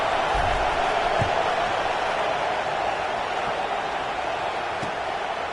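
Stadium crowd at an American football game, a steady broad murmur of many distant voices, loud and continuous with no distinct cheers, under a commentator's voice.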